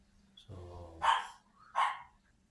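Dog barking twice outdoors at a moderate distance, two sharp separate barks following a brief low growl, with little else around.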